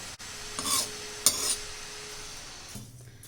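Oats being stirred as they roast in a pan, a couple of short scraping clinks of the utensil against the metal over a faint steady background, with no talking.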